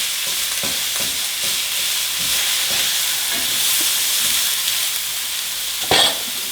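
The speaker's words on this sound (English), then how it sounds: "my goal here is to get this cooked, and I'm gonna have to break it up." Ground pork stir-frying in oil in a pan, a loud continuous sizzle with rhythmic scraping taps as a utensil breaks up the meat, ending in a sharper clatter.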